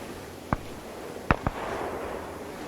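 Three sharp gunshots in a WWII combat video game, one isolated crack followed by a quick pair about a second later, ringing out over a steady low battlefield ambience.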